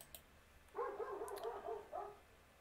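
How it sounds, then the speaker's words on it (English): A dog barks out back at night, a few faint, distant yips and barks in a short run, heard through quiet room noise with no talking. "The dog's going crazy out back again tonight."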